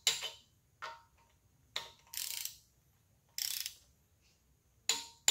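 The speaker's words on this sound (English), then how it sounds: "I've got the torque wrench set to 40 foot-pounds. So I'm just going to start pulling on these and getting them tight." Torque wrench set to 40 foot-pounds tightening bolts on a small block Chevy stroker engine, giving six or so short, separate ratcheting bursts at close range with quiet gaps between them and no talk.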